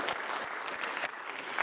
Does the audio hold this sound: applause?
yes